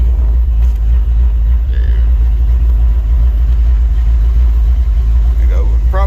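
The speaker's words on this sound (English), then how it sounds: "it is idling pretty low, and it's stable" A Sweptline truck engine fitted with a Holley carburetor idles low and stable, a loud, steady deep rumble that runs throughout, with faint bits of a voice in the background.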